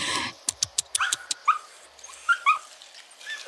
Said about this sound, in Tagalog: Aso lang pala.